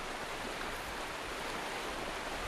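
A creek flows beneath an old logging bridge on Vancouver Island, a steady, broad rushing of water that fills the whole moment with no talk.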